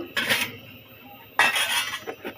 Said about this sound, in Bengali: এখানে যে পাতিলাটাও বসাই দিছি